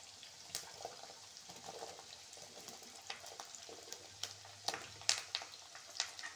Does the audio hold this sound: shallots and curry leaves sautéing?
yes